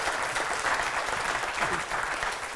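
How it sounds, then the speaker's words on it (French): Audience at a French conference on managing vulnerabilities in health and social care organisations applauding steadily, a dense, even wash of clapping throughout with a faint voice underneath. "On peut l'applaudir."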